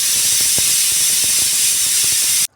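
A pressure cooker holding palav hisses steam in a loud, steady stream, with faint rhythmic clicks of the rattling weight beneath, cutting off abruptly at the end.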